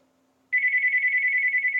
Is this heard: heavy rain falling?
no